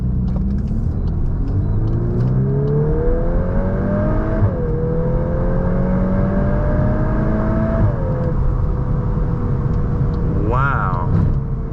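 A VW MK8 Golf R accelerating hard from a standstill without launch control, its loud, close engine note climbing steadily through the gears with clear upshifts and a constant road rumble beneath.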